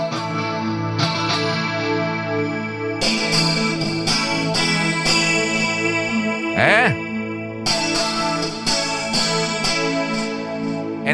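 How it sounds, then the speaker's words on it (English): Electric guitar played through a Fractal FM9 modeler with part of the signal bypassing the cabinet block, giving sustained distorted chords with a brief sliding bend in the middle, loud and continuous with no talking. "there is a part of the signal that bypass the cabinet block, and this is the result."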